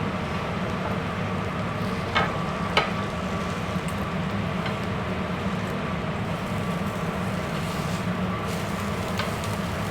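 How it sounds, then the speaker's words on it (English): Food pressed flat into a hot pan in a chef workshop kitchen, searing and frying with a steady, even sizzle that holds close and moderately loud throughout, broken only by a couple of faint clicks. "And again, there's a nice searing sound from that."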